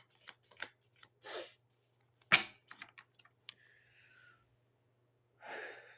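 Tarot cards drawn and laid out in a quiet room, giving a series of soft, brief rustles and light taps with one sharper snap, spaced irregularly and heard close and alone.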